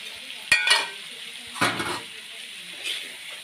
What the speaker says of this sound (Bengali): দিয়ে দেবো মটরশুঁটি সয়াবিন সব একসঙ্গে দিয়ে দিচ্ছি